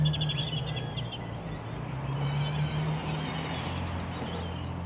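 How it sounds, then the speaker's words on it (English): Many birds chirp and sing together outdoors in Las Vegas near Red Rock Casino, a busy chorus of high tweets and trills over a steady low background hum. "a whole bunch of birds chirping"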